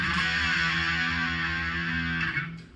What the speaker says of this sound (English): I recommend using a distortion and a little bit of a chorus.